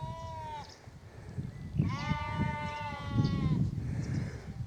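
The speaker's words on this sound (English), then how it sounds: "I'm more interested in the sheep who are going, "What's up?"" Sheep bleating on a hillside along the Gritstone Trail: one short bleat followed by a longer, wavering call and a fainter third, moderately distant, over outdoor wind noise.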